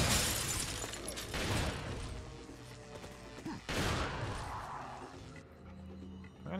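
Two grenades going off in Resident Evil 4, a crackling burst followed after a pause by a second blast with scattered breaking and crashing debris over busy game noise.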